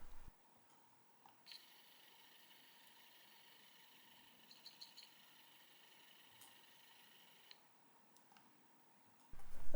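A Blu-ray player's sled motor drives the optical sled along its lead screw in a DIY laser scanning microscope, making a faint, steady high whine for several seconds with a few soft ticks and clicks.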